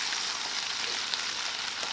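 Egg cooking with curry in a smoky hot pan, giving a steady, dense sizzle that holds evenly throughout with no voice over it.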